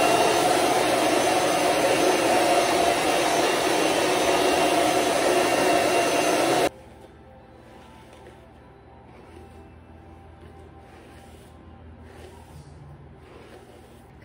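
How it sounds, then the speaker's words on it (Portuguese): A hair dryer roars loudly and steadily at close range, then cuts off abruptly, leaving a quiet room with faint rustles. "aí vou secar ele agora com o secador."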